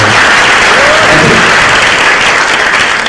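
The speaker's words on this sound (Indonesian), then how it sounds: "tepuk tangan sekali buat Ibu Sri Mulyani" Loud, continuous applause from a lecture hall audience at a public talk by Sri Mulyani Indrawati, a thick, even roar of many hands clapping together without a break.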